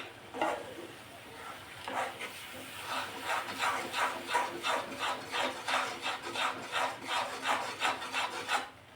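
A spoon scrapes and stirs through a thick mohanthal mixture of roasted gram flour as sugar syrup is added a little at a time, off the heat, making steady rhythmic rasping strokes close by with no talk.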